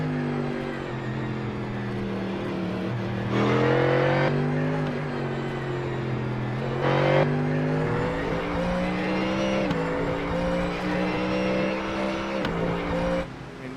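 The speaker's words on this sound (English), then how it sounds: "it's one of the best sounding race cars within the whole iRacing simulation motorsports universe here" American-powered race car engine roaring steadily in the iRacing simulator on the Nürburgring Grand Prix circuit, with loud sustained revs rising and dropping through several gear shifts, and no talk.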